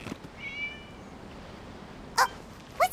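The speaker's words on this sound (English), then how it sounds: "It was just a cat." A cat in the video game Genshin Impact meows a couple of times in quick succession near the end, short bright calls over a quiet, slightly hissy background.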